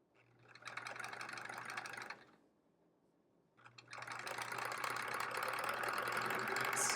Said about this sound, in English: I'm gonna sew it this way just because I find it a little easier sewing on this blank white strip